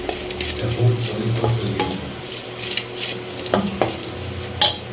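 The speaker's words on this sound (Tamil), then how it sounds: "அந்த தக்காளி நல்லா வெந்து உடஞ்சி சாஃப்டாகி வரணும் அது வரைக்கும் கிண்டி விட்டுட்டே இருக்கலாம்" A spoon stirs tomatoes with salt in a pan for crab curry, giving steady scraping and clinking against the metal with a soft sizzle of frying beneath, close and continuous with a few sharper taps.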